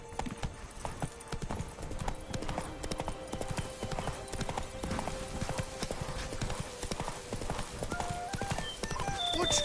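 Horse galloping in The Witcher 3, rapid rhythmic hoofbeats pounding steadily and fairly close, with harness jingles and faint game ambience underneath and a tonal whine near the end.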